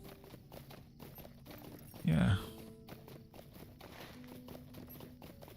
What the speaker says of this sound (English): Ooh, the Evendim horse.